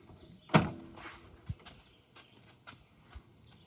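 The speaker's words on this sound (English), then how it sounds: "And then open the doors." A van door opens with a sharp metallic clunk, followed by scattered softer knocks, clicks and rattles as the door is swung and handled nearby.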